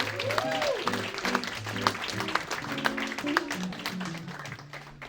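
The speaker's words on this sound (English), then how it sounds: "So everyone start clapping right now for Dr. Greg Matthews, everybody." Audience applause at a comedy show for a guest statistician, a dense crowd clapping steadily and fairly loud throughout, with voices and cheers mixed in.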